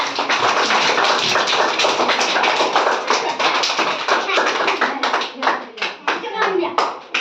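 A group of children claps hands together in a lively, uneven rhythm during a classroom activity, loud and close, with a teacher's voice speaking over the clapping.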